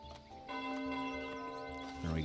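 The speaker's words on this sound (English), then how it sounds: "Ring bells." Church bells ring steadily in the Foundation medieval city-building game, a sustained bell tone with shimmering overtones holding throughout with no voices over it.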